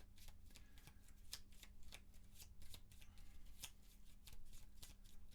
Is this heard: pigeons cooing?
no